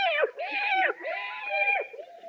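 Cat meowing as a sound effect on a 1948 radio comedy show, a series of wavering, drawn-out plaintive meows close up and loud, with no other sound between them.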